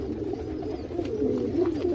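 Pigeons in a pigeon house during winter, cooing in a continuous low murmur that stays steady and fairly close throughout, with no speech.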